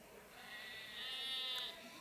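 A sheep bleats once in a faint, quavering, drawn-out call that swells slightly toward its end, heard alone against quiet background.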